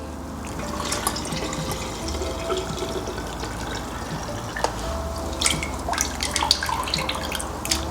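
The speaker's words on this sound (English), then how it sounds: "Then we're gonna fill it up with water, probably up to our 30 ounce" Water pouring into a bucket for a car wash of a Subaru WRX STI, a steady splashing, trickling fill close by with scattered drips and clinks, no speech.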